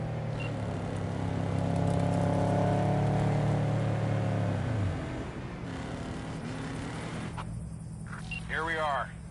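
A car engine idles and drones in Cyberpunk, its steady low hum running under speech for about five seconds before dropping away.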